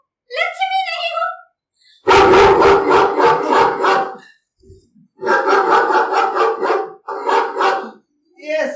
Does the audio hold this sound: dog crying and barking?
yes